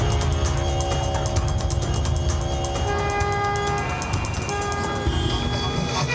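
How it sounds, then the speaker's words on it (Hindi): Car horns honk repeatedly amid loud, continuous traffic noise in Istanbul, with short beeps and longer sustained tones overlapping. "टर्किश ड्राइवर्स को हॉर्न बजाने में बहुत मजा आता है।"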